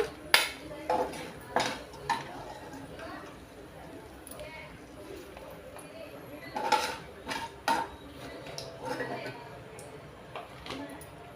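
Fried cashews scooped from a kadai onto a plate with a metal spoon, producing scattered clinks and scrapes of utensil on dish, a few sharp taps, with faint talk in the background.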